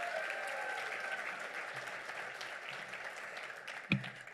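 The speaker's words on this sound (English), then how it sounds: "can we clap for these students one more time?" Luncheon audience at an education event claps for students, a sustained, even round of many hands with a brief louder knock near the end.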